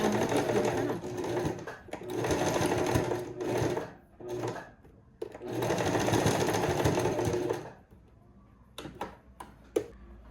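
Sewing machine stitching slowly on a black garment near the rouleau trim, running in several buzzing bursts broken by short stops for backstitches, then quiet with a few clicks and taps at the end.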